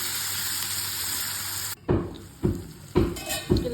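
Mutton fry being mixed in a pan, a hiss of cooking first, then four evenly spaced scraping strokes of a spoon against the pan, close and fairly loud with no talking.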